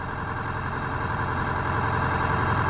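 Road roller engine idling at a steady, constant level during warm-up, heard close from the operator's station with no breaks or speech.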